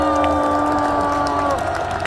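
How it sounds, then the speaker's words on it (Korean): A crowd at an outdoor political rally near the Constitutional Court claps and cheers loudly and continuously under a droning amplified tone, with scattered shouts poking through. "여러분들 큰 박수 주셔야 되지 않겠습니까?"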